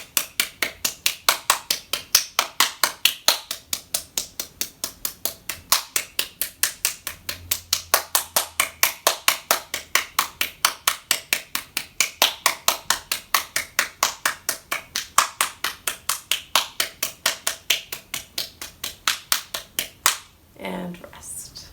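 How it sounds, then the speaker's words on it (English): Steady, rapid back-of-the-hand clapping in a hand yoga exercise, dozens of even, close claps in a brisk unbroken rhythm that stops abruptly near the end. "We're ready now for our last variation of clapping"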